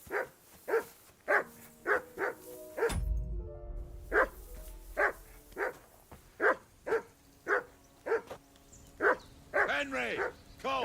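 A dog in the Kingdom Come: Deliverance II video game barks repeatedly in a steady, evenly spaced series of sharp woofs at moderate distance, briefly interrupted by a low thud, ending in a few quicker yelping barks.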